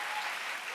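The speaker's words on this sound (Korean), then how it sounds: "박수 한번 쳐주세요" A church congregation at a Friday worship service clapping together, a dense, even wash of applause filling the short moment without a break.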